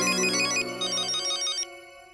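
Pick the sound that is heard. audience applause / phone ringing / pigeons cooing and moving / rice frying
phone ringing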